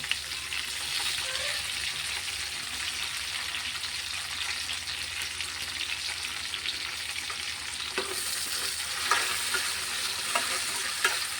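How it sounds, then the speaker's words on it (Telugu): Tomato pieces frying in a pan give a steady, continuous sizzle with occasional stirring scrapes, growing slightly busier toward the end; no one speaks. "టమాటా ముక్కలు కూడా వేసి ఫ్రై చేసి వచ్చాము"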